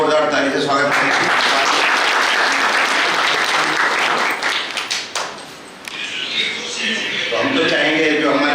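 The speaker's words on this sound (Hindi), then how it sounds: "इनका जोरदार ताली से स्वागत करें।" An audience at a retirement function for a Mahanagar Telephone Nigam (MTNL) employee breaks into loud, sustained applause that dips briefly and then swells again, filling the room.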